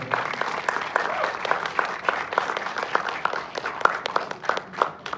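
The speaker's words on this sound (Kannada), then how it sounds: "ಅವ್ರ ಕಾಸ್ಟ್ಯೂಮ್ಗೆ, ಅವ್ರ ಪಾತ್ರಕ್ಕೆ ಡಬ್ಬಲ್ ಚಪ್ಪಾಳೆ ಕೊಡ್ಬೇಕು" Audience applause at a film trailer launch, continuous clapping from a crowd lasting several seconds at a steady moderate level, with a few sharper individual claps standing out.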